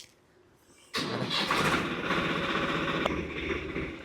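A farm tractor cranks and catches at about one second, then runs at a steady, loud idle close by on an early-morning field, with no talking.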